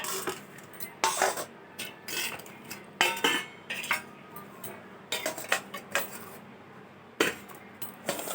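Metal cookware clattering as cooked vegetable dishes of dal and cabbage are covered with lids, with repeated sharp clinks and knocks of pots, lids and cutlery in a kitchen, close and moderately loud with pauses between.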